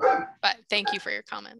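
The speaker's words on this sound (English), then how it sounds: "Sorry about my barking dog." A pet dog barks and yips repeatedly in the home of someone joining a conservation commission meeting. The short, choppy barks mix with a person speaking close by.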